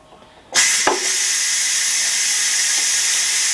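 A Ninja Foodi MAX 9-in-1 pressure cooker switched from seal to vent, loud steam bursting out in a sudden hiss that then holds steady and strong, with no voices.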